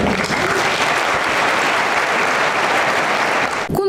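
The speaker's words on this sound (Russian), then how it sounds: "давайте отдельными аплодисментами" Loud, dense applause from an audience at a leadership competition event, continuous and even throughout, cutting off abruptly just before the end.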